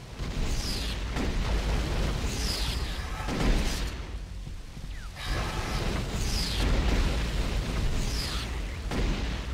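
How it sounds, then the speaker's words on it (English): Plasma rifle fire in a video game city battle, a series of sharp zapping shots with short descending swoops, repeating in bursts over a steady roar of explosions. "Plasma rifle."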